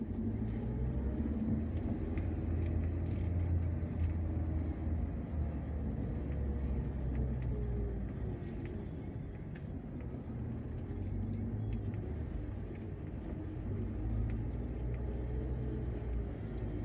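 Heavy vehicles, mostly large trucks, grind along a congested highway in the morning, giving a continuous low, moderately distant rumble of engines with no breaks.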